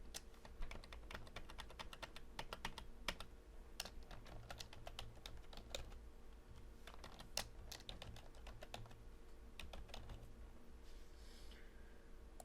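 Rapid, uneven keystrokes on a computer keyboard clatter in quick bursts and single taps, close and fairly quiet, over a steady low hum.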